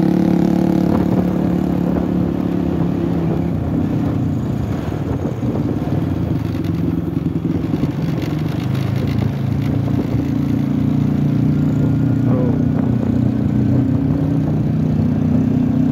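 A motorcycle with a loud exhaust rumbles steadily on a dark road at night, a close, continuous low engine drone with small rises in pitch and no voices over it.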